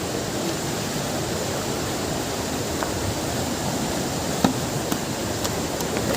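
A steady, full roar of falling water from Kolung waterfall in Morang, Nepal, fills the scene without pause, loud and close, with a few faint clicks on top.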